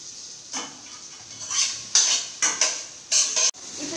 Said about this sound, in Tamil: நல்லா வணக்கிக்கோங்க.